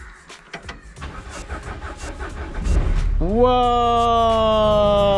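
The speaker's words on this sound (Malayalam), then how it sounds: "വണ്ടി സ്റ്റാർട്ട് ചെയ്യാൻ പോണേ" A car engine cranks a few times, then catches and settles into a steady, loud idle.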